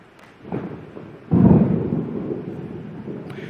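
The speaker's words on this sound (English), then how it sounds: "Does anyone hear thunder," Rolling thunder heard indoors during a sermon, a faint early rumble followed by a louder deep roll that slowly fades, with no talking over it.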